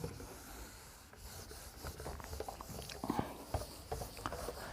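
An eraser rubs across the top part of a classroom board during an accounting lesson, making faint, continuous scratchy strokes with small irregular scrapes and no speech.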